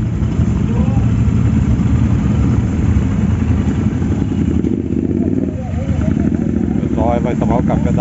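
Motorcycle engines idle on a street with a loud, steady rumble nearby, while people talk over the constant engine noise.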